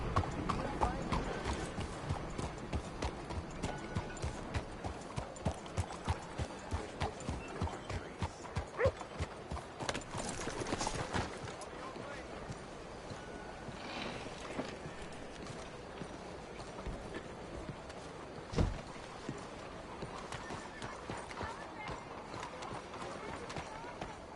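Video game horse hooves clip-clop in a steady, even rhythm at moderate distance, then the clopping thins out and grows sparse and quieter.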